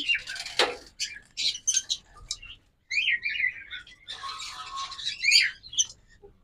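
A yellow pair of caged birds kept for sale chirp and tweet in quick, bright, irregular bursts, close by, with short pauses between calls.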